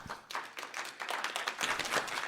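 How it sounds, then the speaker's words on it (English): A live audience at a cybersecurity comedy talk in La Jolla claps, a brief burst of scattered, moderately loud applause that builds slightly toward the end. "Oh, you're going to clap louder than that."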